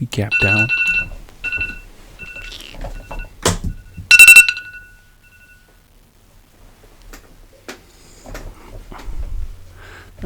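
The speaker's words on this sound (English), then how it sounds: "That was my alarm." A phone alarm rings in repeated bright electronic tones in the opening seconds, loud and close, mixed with someone speaking before it cuts off into quieter talk.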